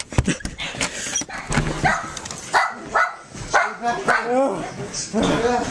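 A dog barks in short repeated bursts at a house at night, mixed in with excited, frightened voices talking close by.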